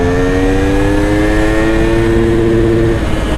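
A motorcycle accelerates hard in first gear on a back road, its engine note climbing steadily in pitch as it revs out. The sound is loud, close and continuous, with no talking.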